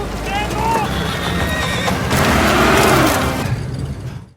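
Two horses pull a stuck bus in a film scene, whinnying loudly and repeatedly over clip-clopping hooves and mechanical rumble, up close and sustained.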